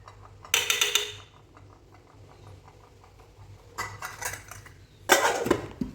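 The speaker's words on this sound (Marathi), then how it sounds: "चमचा टाकला बुडवून त्याला" A spoon clinking and scraping inside a kitchen pot, three short bursts of metallic rattling separated by quiet stretches with a soft background hum.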